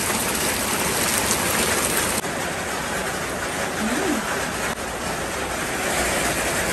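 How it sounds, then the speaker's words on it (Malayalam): Heavy monsoon rain pours steadily outside a rented house, a dense unbroken hiss that fills the whole stretch at an even, loud level. "പുറത്താണെങ്കിൽ കണ്ട നല്ല തകൃതിയായി മഴ പെയ്തുകൊണ്ടിരിക്കുന്നു"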